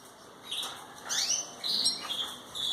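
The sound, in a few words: Belgian canaries chirping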